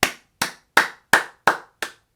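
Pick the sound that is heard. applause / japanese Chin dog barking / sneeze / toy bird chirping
applause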